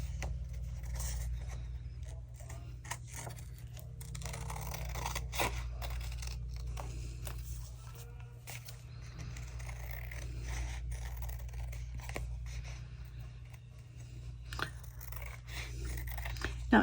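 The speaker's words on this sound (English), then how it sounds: "So I need my scissors." Scissors snip and crunch through craft paper close by, with repeated cuts scraping over a steady low background hum and no talking.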